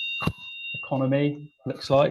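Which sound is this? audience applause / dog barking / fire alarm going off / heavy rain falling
fire alarm going off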